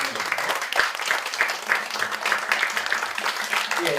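Welcoming applause from a congregation at a church anniversary service, a steady, even roll of many hands clapping together at moderate volume throughout, with faint voices beneath.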